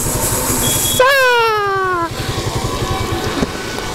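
A motorcycle engine runs steadily in the rain, its low throb under a constant hiss of rainfall, with a loud tonal whine that slides downward for about a second before the engine carries on alone.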